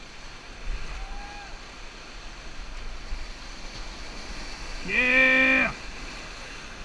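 Whitewater roaring steadily through Sawmill Rapids on the Animas River while rafting, a close, continuous rush with a brief whistle-like tone and one loud excited shout partway through.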